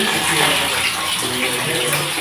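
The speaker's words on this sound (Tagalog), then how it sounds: "Magagamit na natin itong ating telephone shower at medyo malakas na ang kanyang dating ng tubig" A telephone-style handheld shower runs strongly, fed by a water pump, producing a loud, steady, dense rush of spraying water that fills the whole clip without pause.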